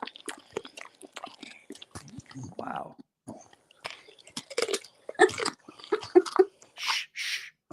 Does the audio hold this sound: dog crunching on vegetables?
yes